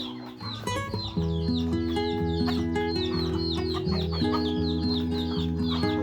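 Several native country chickens, about eighty on a farm, clucking and calling close by, overlapping in a busy, continuous chorus.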